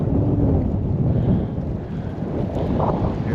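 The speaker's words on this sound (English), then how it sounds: "It's windy." Strong wind buffets a boat out on the water off the Oregon coast, a loud, steady roar of gusts rumbling into the microphone, with no voices.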